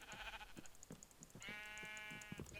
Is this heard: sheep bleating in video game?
yes